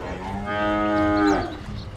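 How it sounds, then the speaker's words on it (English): Cow moo taunt from the video game Dota 2, a single drawn-out bovine moo lasting over a second, loud and clear against faint background noise. "Good to see both teams mooing their hearts out as well."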